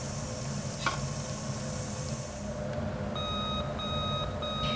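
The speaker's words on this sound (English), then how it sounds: "When the remove signal sounds, stop the timer and remove the lid" Electronic timer on a McDonald's grill beeping in three short bursts, over the steady sizzle of chicken portions cooking on the grill, close and clear.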